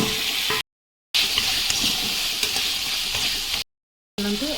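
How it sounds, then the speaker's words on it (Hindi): Tomatoes frying in a masala of ground spices in a pan for an Odia jackfruit and chickpea curry, giving a steady close sizzle with soft stirring scrapes, broken by two short silent gaps. "एबे चलतु टमाटर पकाइ नेबा।"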